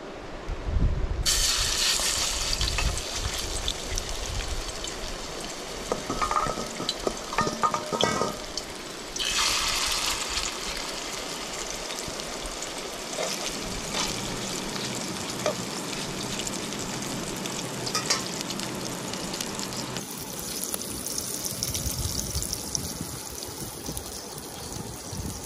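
Lobsters sizzle and fry in a hot pot over an outdoor fire on a remote Jamaican island, with a steady, watery hiss and crackle that swells and shifts throughout, fairly close, with no talking.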